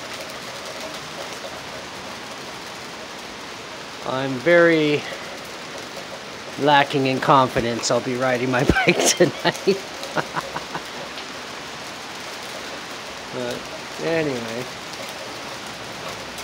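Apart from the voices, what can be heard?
heavy rain pouring down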